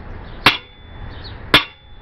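Two sharp metallic hammer blows on a fluting tool used to shape medieval armor plate, spaced about a second apart, loud and close with ringing decay in a quiet workshop.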